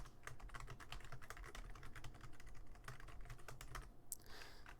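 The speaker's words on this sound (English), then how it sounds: "Hopefully I can type it in the same way without wasting your guys' time." Dense, continuous clatter of keystrokes on a computer keyboard as a root password is typed in during an Arch Linux installation, fairly quiet and close, with no talking.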